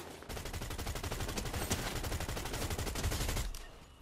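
Rapid automatic gunfire from a Fortnite match, a dense, loud, continuous burst of shots lasting several seconds before cutting off abruptly near the end.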